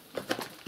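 Pigeons coo softly at a grain feeding spot, a few short, moderately close calls in under a second.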